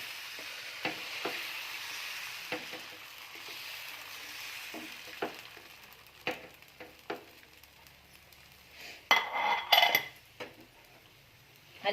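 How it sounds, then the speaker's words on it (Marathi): Dosa batter spread with a bowl across a hot griddle for a crispy masala dosa: soft scraping and stirring strokes with light sizzling, then a few louder metallic clinks of the bowl near the end, no talk. "त्यावर हा डोसा टाका आणि अशा वाटीच्या सहाय्याने हा वाटा पसरवून घ्या"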